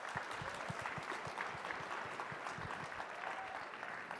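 Sustained, dense applause from a conference audience welcoming CEO Lou Adler to the stage at Talent Connect 2017, steady and full throughout with no speech over it.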